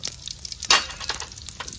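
Fennel seeds sizzling in ghee in a pan, heard as a soft crackling fry with one sharper splash-like burst near the start, close and quiet, with no voices.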